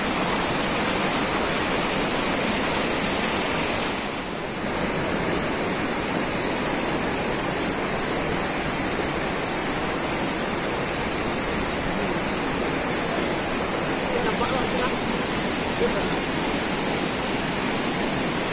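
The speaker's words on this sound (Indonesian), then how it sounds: "ini air terjun yang kedua" A steady, loud roar of falling water from a waterfall at Langkuik Tinggi, West Sumatra, fills the whole stretch, continuous and broadband with no voices.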